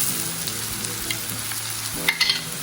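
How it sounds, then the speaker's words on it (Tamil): Onion, curry leaves, crushed black pepper and garlic sizzle and fry steadily in a pan for a crab dish, with a continuous close frying hiss and a few brief sharper crackles near the end, no talk. "மிளகும் பூண்டும் போட்டு வதக்கணும்"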